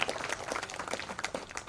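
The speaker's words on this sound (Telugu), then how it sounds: "మన పూజ్యులైన తండ్రి గారికి ఒకసారి గట్టిగా చప్పట్లు కొట్టి కృతజ్ఞతలు తెలియజేసుకుందాం" Audience applause for a priest at a Christian jubilee gathering, a brief patter of many hands clapping that is moderately loud and fairly steady, with no voices over it.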